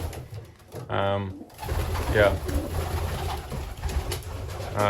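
Pigeons coo softly nearby in a loft, low throaty calls repeating against a steady background rumble and outdoor noise.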